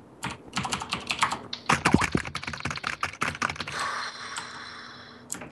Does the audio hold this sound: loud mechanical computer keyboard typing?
yes